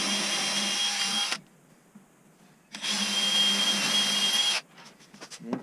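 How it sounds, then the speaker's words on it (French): Two bursts of a high-pitched electric drill boring into wood for a wall cabinet build, each lasting about a second or two with a quiet pause between, the second run longer and steadier. "Donc là, on va percer."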